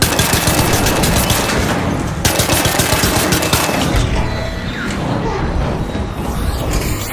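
Dense, continuous gunfire from the video game Arc Raiders, with rapid bursts and booming shots layered loudly over a busy battle mix without a pause.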